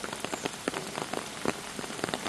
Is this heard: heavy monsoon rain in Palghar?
yes